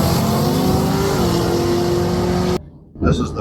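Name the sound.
drag race car in bracket race round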